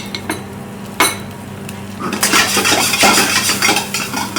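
A metal utensil scrapes and clinks against a wok while keema is mixed into hot pilau rice. Faint taps come first, then busier, louder stirring and clattering fills the second half.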